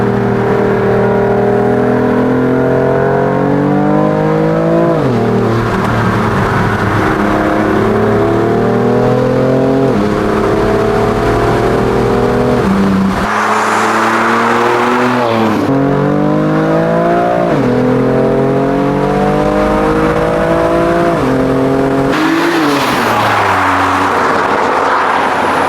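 A car accelerates hard along a Black Forest road in Germany, its engine climbing through repeated rising revs with brief dips at each gear change, loud and close throughout with no talk.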